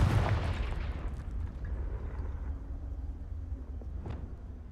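A Confringo blasting spell in Hogwarts Legacy bursts into a heavy, booming explosion at the start, then a long low rumble trails off under faint game ambience.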